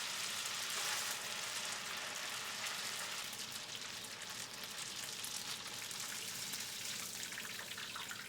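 Steady, dense sizzling and crackling of food frying in hot peanut oil at 350 degrees, a continuous close hiss that holds fairly even throughout, with no talking.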